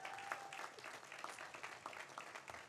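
Applause at an LL.M. commencement, honouring graduates' family and friends, fills the room as a dense, steady wash of clapping with some scattered individual claps standing out, fairly faint and distant.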